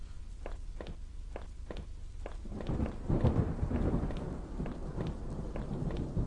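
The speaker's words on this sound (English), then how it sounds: "The rain was coming down hard" Steady rumbling rain in the video game Home, with low thunder-like noise, joined early on by a run of evenly spaced footsteps that fade as the downpour swells.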